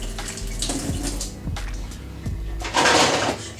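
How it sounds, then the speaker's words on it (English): Soaking water pours off black rice in a kitchen, with splashy gurgles and a few knocks of the container, ending in a louder rush of draining water, close by. "I'm going to pour this water off now."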